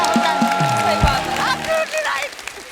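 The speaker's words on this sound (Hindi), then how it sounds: "और एक बार जोर से तालियां हो जाए" TV studio audience applauding on a comedy show, steady crowd clapping that runs through the whole moment with music and voices layered over it.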